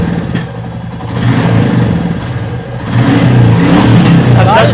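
A used Royal Enfield Bullet Classic 350 motorcycle engine rumbles nearby, then gets louder and rougher as it is revved, with a steady thumping beat.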